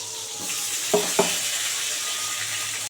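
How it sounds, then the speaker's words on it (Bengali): Steady, close sizzle of eggplant frying in hot oil, broken by two quick sharp pops or clicks near the start. "আগে বেগুনটা ভালো করে ভেজে নেব"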